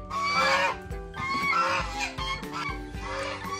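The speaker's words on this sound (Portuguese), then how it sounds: "Quando os gansos começam a gritar, ficar assim, não para de jeito nenhum" Farm geese honk loudly and close in repeated overlapping bursts, a harsh continuous chorus that barely pauses.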